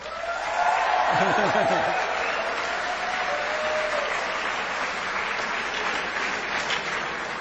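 A large crowd applauds at a speech, loud sustained clapping and cheering that fills the whole stretch, with a voice briefly audible early on.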